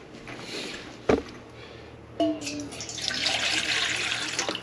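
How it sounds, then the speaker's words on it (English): Tap water runs to refill a filtered water container, starting with a sharp knock and then building into a continuous, rising gush close by indoors. "have to refill your filtered water up. It's getting low."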